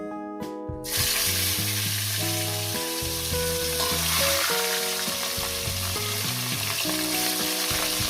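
Fish pieces slid one by one into hot, lightly salted oil give a steady, close sizzle that runs the whole way through, with a melodic music track playing underneath.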